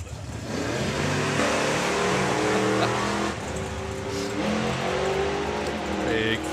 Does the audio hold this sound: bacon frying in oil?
no